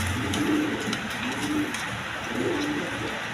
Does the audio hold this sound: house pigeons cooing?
yes